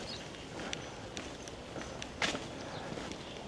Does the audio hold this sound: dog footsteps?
yes